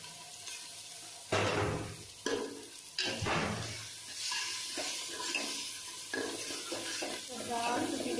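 Bengali bhuna khichuri with mung dal and spices being stir-fried in a handi: loud scraping strokes of a spoon over a constant sizzle, with a few heavier stirs early on.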